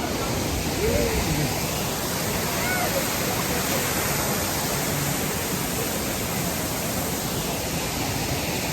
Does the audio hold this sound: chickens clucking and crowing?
no